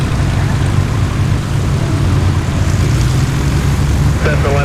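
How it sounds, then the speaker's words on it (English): Propeller drone of a Cessna arriving at a crowded Oshkosh airfield, a steady engine hum with low tonal bands that holds constant, loud and close, with faint chatter near the end. "Cessna landed on the right side"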